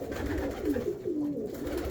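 Soft, low pigeon cooing close by, a short rolling coo repeated over a steady background murmur.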